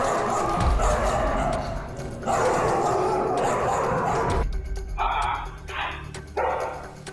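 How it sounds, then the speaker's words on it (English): Aggressive dog barking toward other dogs, a series of loud, harsh bark bursts in the first half followed by shorter, higher yelping barks, with some background noise. "Showing aggression towards other dogs."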